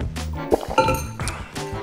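Glasses of water clink together in a toast: a couple of light, close, ringing taps spread across a short quiet moment, with faint room sound between them.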